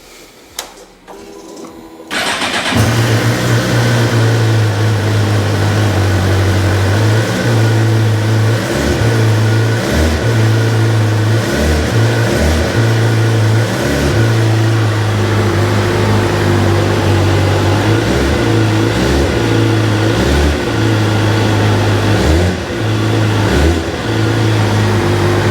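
A Suzuki GSX-R 750 motorcycle with low mileage fires up after a brief quiet moment, then idles loud and close with a steady, throbbing engine note and small rhythmic blips of revving throughout.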